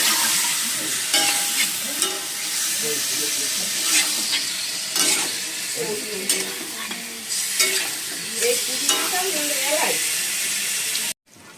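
Chicken pieces for a Mughlai chicken curry fry in a pan with a crackling sizzle and frequent spoon scrapes. A voice talks over parts of it, and the sound cuts off briefly near the end.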